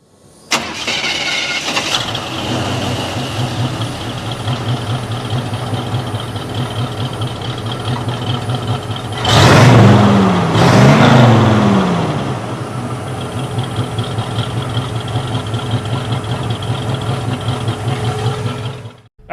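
A restored 1951 Ford F1 pickup truck engine idles with a steady, close, low rumble, then revs up in two swelling bursts midway before settling back to an even idle.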